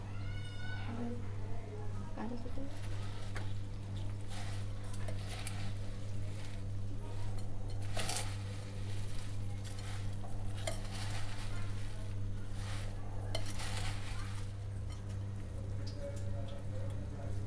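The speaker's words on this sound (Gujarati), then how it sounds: "ને હવે બધું મિક્સ કરી લઈશું।" Street-style bhel, a tangy, sweet and spicy puffed-rice snack with lemon juice and chopped coriander, is mixed in a bowl, giving soft scraping and clinking under a steady hum, with faint background sounds.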